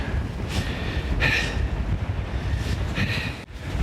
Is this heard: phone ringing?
no